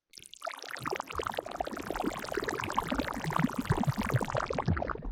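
An Overwatch-style water spell sound effect with crackle processing: dense, wet splashing and bubbling, crackling and fizzing continuously at a steady level, close and full, ending abruptly.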